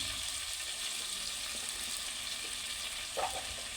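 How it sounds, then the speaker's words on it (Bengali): Spice masala of turmeric, chili powder and salt fries in a pan with a soft, steady sizzle, faint stirring taps and one brief louder scrape near the end. "তো মশলাটা কষানো হচ্ছে এখন"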